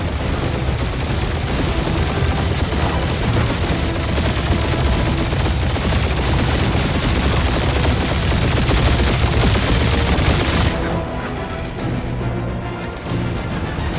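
Continuous heavy gunfire in a Marvel's Guardians of the Galaxy battle, dense rapid bursts sustained and loud throughout before thinning out near the end.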